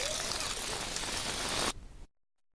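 Heavy rain pours down in a dense, even roar of broadband hiss, loud and close, before cutting off abruptly into near silence after about two seconds.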